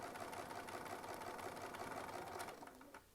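A Bernina sewing machine with its stitch regulator engaged runs steadily and close for about three seconds, a continuous whirring hum that tapers off at the end, with no talk.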